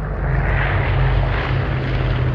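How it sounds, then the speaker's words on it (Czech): An airplane in the video game Vigor drones overhead with a loud, steady propeller-engine roar that fills the whole moment without a break. "To letadlo hodilo drop, ale nevidím to letadlo."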